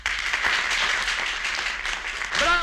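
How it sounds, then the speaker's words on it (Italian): An assembly breaks into applause, a brief burst of dense clapping heard close by, with a voice rising near the end. "Assemblea rispose con un applauso alle parole di Giuseppe Mazzini"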